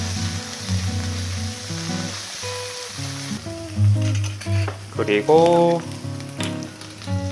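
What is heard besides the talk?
stir-frying vegetables with soy sauce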